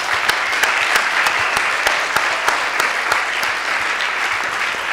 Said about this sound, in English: Can I have a final round of applause for the great panel?